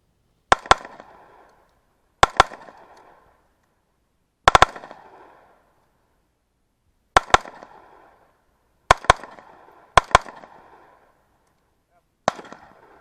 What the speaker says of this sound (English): This meant that we got to shoot different guns too, like the MP7.